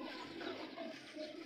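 Pigeons cooing softly amid a steady wash of background noise, with no talking.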